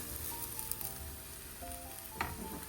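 Bread pizza roasting on a pan over medium flame gives a soft, continuous sizzle with light crackles, faint tonal hums in the background and a brief scraping stir near the end.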